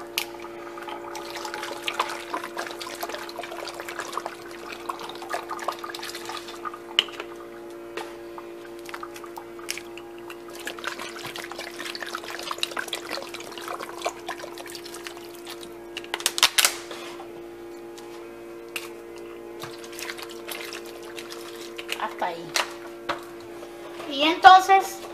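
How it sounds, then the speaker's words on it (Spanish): Drinking water is poured over washed potatoes in a home kitchen: a light, intermittent splashing and trickling rises and falls over a faint steady hum. "Y tenemos la papa lavada y le vamos a echar nuestra agua potable."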